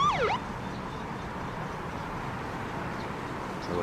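A brief wailing emergency vehicle siren in the video game Arma 3 sweeps up and down near the start, then fades into a steady rumbling background of traffic-like noise.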